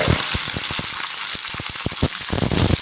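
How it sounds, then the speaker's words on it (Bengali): Garlic sizzles in hot oil for a fish and green tomato curry, with a steady crackling hiss broken by sharp pops and clicks, close and fairly loud. "রসুন তেল দিয়া ফালাই দিব"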